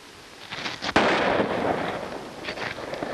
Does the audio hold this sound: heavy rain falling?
no